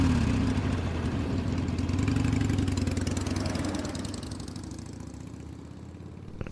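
A motorcycle engine runs steadily with a mid-pitched drone, loud at first and then slowly fading as it pulls away, with no voices.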